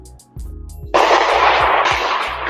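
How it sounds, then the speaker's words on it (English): Gunfire on a street on the Las Vegas Strip early on a Sunday morning, captured by a Ring doorbell camera: a burst of rapid loud shots at a distance, preceded by a few sharp cracks. "Captured on this Ring doorbell. The sound of gunfire ringing out on the Strip early Sunday morning."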